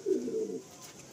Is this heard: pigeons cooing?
yes